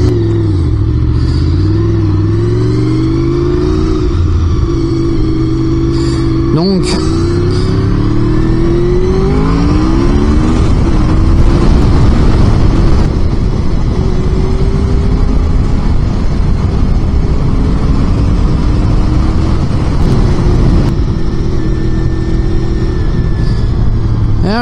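A Honda VFR750 motorcycle engine revs and pulls close by, pitch climbing and dropping through gear changes, loud and steady throughout, with a brief word spoken.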